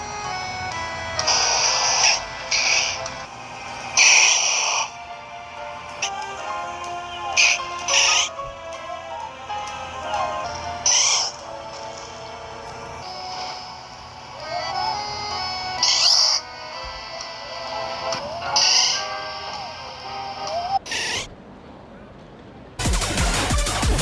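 Venusaur's cry from Pokemon Legends Z-A, a warbling, hooting synthetic call repeated several times with bright chirpy peaks over a steady droning background, ending in a burst of noise.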